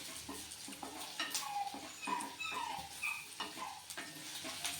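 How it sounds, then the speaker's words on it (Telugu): Ivy gourd and tomato pieces fry in hot oil with a soft, steady sizzle and occasional stirring scrapes, fairly quiet and close, with a few faint chirps in the background. "చూడండి, ఈ విధంగా వేగుతుంది. ఇంకా కొంచెం 2-3 నిమిషాలు వేగాలి."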